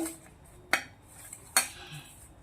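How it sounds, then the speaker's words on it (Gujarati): Spice masala with chaat masala and amchur powder being mixed on a large metal plate at home, heard as two sharp metallic clinks and faint scraping, close and quiet. "હવે આપણે મસાલો મિક્સ કરી લેવાનો છે"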